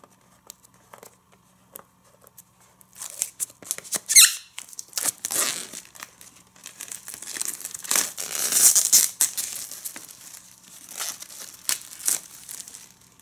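Plastic wrap crinkles, squeaks and tears as it is pulled off a Blu-ray case, starting quietly and then coming in bursts of close, busy rustling and crackling over several seconds.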